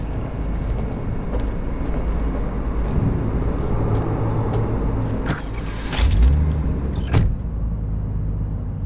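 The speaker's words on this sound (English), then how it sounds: "I'm driving." In Cyberpunk 2077, a car drives with a constant, close engine rumble, and a few sharp clicks and knocks come near the end.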